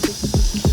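Water being sucked back through a household motor pipe after a power cut: a few distinct gurgling, slurping gulps with falling pitch, spaced irregularly, close and fairly loud.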